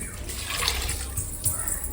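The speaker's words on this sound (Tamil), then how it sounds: "இதுலேயே வந்து ரெண்டு மகு தண்ணி ஊற்றிக்கிறேன்" Water is poured from a mug onto rice in a bucket for bucket biryani, a short continuous splashing pour at moderate level with a couple of louder surges.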